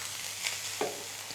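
Minced keema frying in a pan, a soft steady sizzle with a brief stir or scrape partway through, quiet and close.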